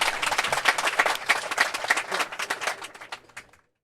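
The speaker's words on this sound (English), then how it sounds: "Big round of applause from the crowd." A crowd at a pro mixed doubles pickleball gold-medal match claps loudly in a busy, crackling burst that thins out and fades to silence by the end.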